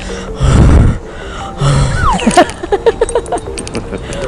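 A voice imitating ghostly breathing, a heavy rasping exhale followed by a second breath and a string of quick uneven breathy sounds, loud and close to the microphone.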